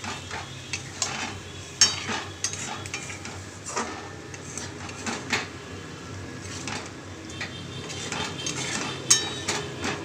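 Pieces of salted lote fish are stirred in a frying pan with a cooked-down masala. A spoon scrapes and clinks against the pan in irregular strokes over a soft, close sizzle, and no one speaks.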